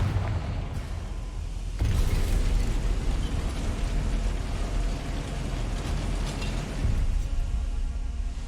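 A Confringo blasting spell explodes in the video game Hogwarts Legacy, a sudden loud boom followed by a long rumbling, crackling roar that swells again near the end.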